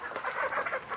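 A chicken clucks and squawks in quick, agitated bursts while being chased and grabbed, close and fairly loud, with no talking over it.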